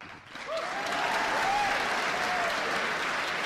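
Massive applause from an audience of over a thousand people at a debate, a dense sustained roar of clapping that swells in the first half second and holds steady and loud, with a faint tonal whistle or cheer weaving through.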